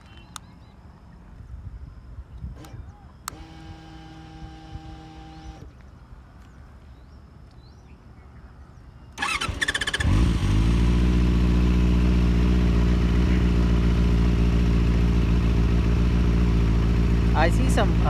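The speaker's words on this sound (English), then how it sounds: "Let us start the vehicle." A Benelli 600i motorcycle engine cranks and catches partway through, then settles into a loud, steady idle close to the mic, following a quieter stretch with a brief tonal beep sequence.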